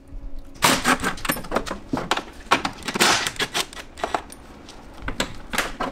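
Ratchet and wrench work loosening 10 mm nuts and bolts from the heat shield under a BMW E90/E92/E82/E60, a busy run of close, sharp metallic clicks and clatters in irregular bursts, with no talking.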